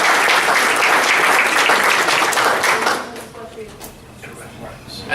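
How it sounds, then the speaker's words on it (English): A Rotary Club meeting room breaks into a round of applause for Natalie's catering, dense clapping from the gathered members for about three seconds before it thins out into scattered claps and murmuring voices. "Let's give Natalie's a round of applause."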